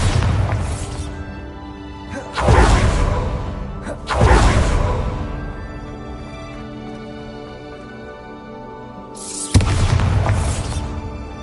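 Three loud booming bursts of the Bombarda spell in Hogwarts Legacy, each with a crashing, whooshing tail that fades over a second or two, separated by quieter gaps.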